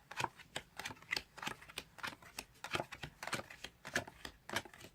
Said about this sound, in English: Now let's see if we can actually mix the cards up.